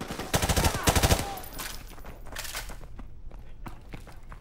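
Rapid bursts of automatic gunfire from the video game Call of Duty: Modern Warfare Remastered, loud and close in the first second and a half, then fading into scattered distant shots and footsteps.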